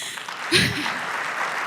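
Audience applause at a women's summit in Africa, a short burst of clapping that swells briefly and then settles into a steady, moderately loud patter.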